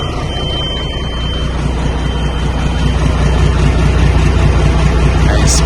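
A used diesel dump truck idles steadily after starting, its low, even rumble loud and close for the whole stretch with no other sounds over it.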